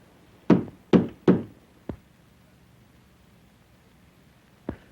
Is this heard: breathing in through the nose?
no